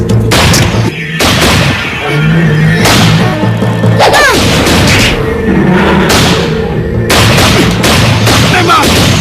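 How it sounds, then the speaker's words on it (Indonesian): Cartoon gunfire aimed at a lizard: a burst of loud, sharp repeated shots and booms, close and punchy, with brief voices between the blasts. "Ayo, kalian tembak dia."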